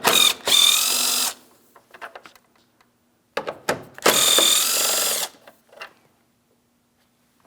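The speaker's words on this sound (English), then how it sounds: "Let's remove our 10mm bolts." Power tool removing 10mm bolts on a 2007-2014 Ford Edge during headlight replacement, two loud close whirring bursts of about a second each, separated by quiet clicks and light handling noises.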